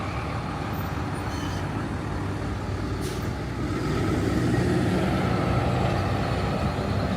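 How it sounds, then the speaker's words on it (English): A Garden Depot delivery truck rolls along a city street in Toronto, its broad engine rumble and road noise steady and moderately close, swelling slightly louder partway through amid general downtown traffic. "What is this Garden Depot truck doing?"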